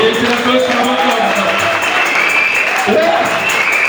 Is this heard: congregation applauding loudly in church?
yes